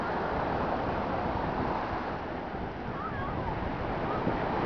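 Steady sea surf at a small tree-lined cove near Ayaş, Mersin, a continuous broad wash of waves with some wind noise on the microphone and no distinct voices.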